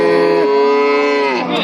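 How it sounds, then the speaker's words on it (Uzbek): A cow at a livestock market gives one loud, sustained moo close by, its drawn-out call rising and then sliding down near the end. "Ko'p tuqqan sigir."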